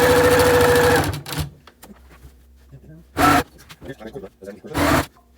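A sewing machine stitching a quilt runs in a steady whirring burst at the start, then stops and restarts in two short bursts, with a person talking in the pauses.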